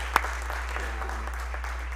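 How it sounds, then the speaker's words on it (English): Audience at a school awards night applauding, a steady continuous patter of many hands over a low constant hum, with one sharper clap near the start. "Give a round of applause for him."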